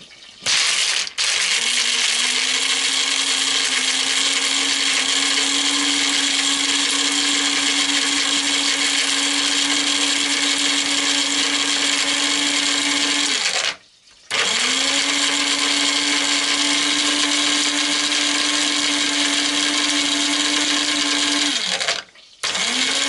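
A kitchen machine chops hard apples for an apple pie cake, a loud steady blending roar running in two long bursts with brief stops between them, no talking.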